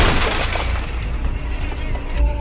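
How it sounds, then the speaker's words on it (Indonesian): A car window being smashed: a dense, continuous crash of breaking, shattering glass, loud and up close, running steadily through the whole moment without speech. "Beruntung ia berhasil memecahkan kaca"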